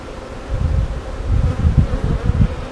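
Honeybees swarm over an opened beehive during a hive inspection, making a dense, low, steady buzz that swells and pulses close by, with no voices.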